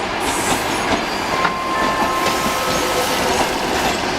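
A train stands at a busy railway station platform during boarding for the Kyiv–Simferopol express, a loud steady rumble with faint metallic squeals and tones, no talk.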